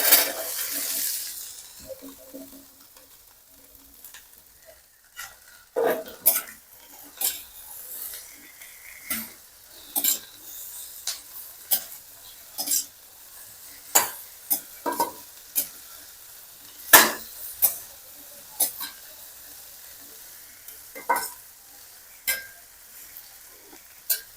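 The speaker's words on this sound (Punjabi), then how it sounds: "ਲਓ ਜੀ ਭਿੰਡੀਆਂ ਆਪਣੀਆਂ ਭੁਜਦੀਆਂ ਰਹਿਣਗੀਆਂ" Okra frying in a pan, with a spatula repeatedly scraping and clattering against the metal in irregular bursts over a soft, steady sizzle, close up and with no talking.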